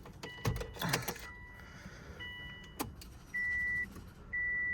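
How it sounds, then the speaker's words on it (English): A Subaru Forester primes its fuel pump with the key turned on: faint clicks of relays, then short electric whirring hums that start and stop in steady bursts, quiet and near inside the car. "Sound like the fuel pump came on"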